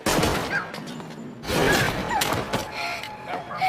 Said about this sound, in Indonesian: Anna tiba-tiba saja ditembak oleh satu orang anak buah Duckworth.